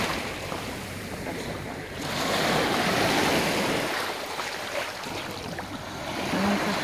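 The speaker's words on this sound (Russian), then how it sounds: "Шум прибоя." Surf rolling onto the Ligurian coast, a steady broadband wash of breaking waves that swells louder midway, with some wind buffeting the microphone and no voices.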